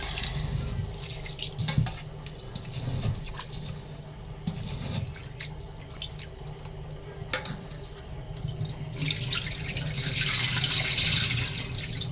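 Biryani rice being rinsed by hand under a running kitchen tap, with a steady close splash of water into the sink and faint patter throughout, no voices.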